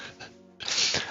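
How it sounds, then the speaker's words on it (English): A single close sneeze: a short voiced intake of breath bursts into a sharp, breathy blast, all within about a second. "give a good sneeze"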